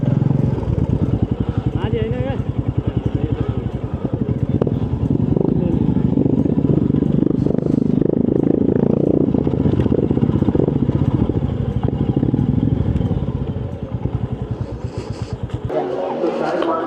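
Motorcycle engine idling and revving as the bike is being parked at a crowded Maha Shivaratri fair, a steady close rumble with clatter and background crowd chatter, ending abruptly.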